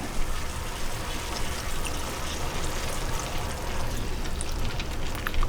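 Sugar cane vinegar poured into a pot while cooking bringhe, a soft, steady splashing pour lasting several seconds at moderate volume, with no talking.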